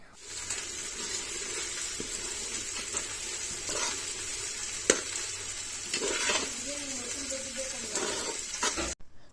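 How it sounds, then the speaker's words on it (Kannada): Curd frying in oil for a village-style biryani, a steady close sizzle with crackling bubbles and occasional stirring scrapes throughout, no voices. "ಮೊಸರು ಹಾಕಿ ಒಂದು ಟೂ ಮಿನಿಟ್ಸ್ಗೆ ನೋಡಿ ಲೈಟಾಗಿ ಎಣ್ಣೆ ಎಲ್ಲ ಬಿಡೋಕ್ಕೆ ಸ್ಟಾರ್ಟ್ ಆಗ್ತಿದೆ"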